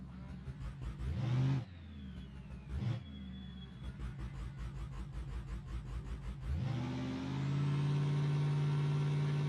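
A drag-racing truck in BeamNG.drive revving on the launch line: short bursts of rising engine revs, a fluttering idle between them, then a sustained loud high-rpm drone as it takes off.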